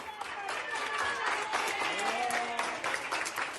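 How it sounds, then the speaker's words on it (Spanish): Hospital staff applauding a woman recovered from COVID after 40 days as she is moved up to a ward at Hospital Insular de Gran Canaria, a quiet, distant patter of clapping with voices calling out over it. "arropada por los aplausos de ese personal sanitario"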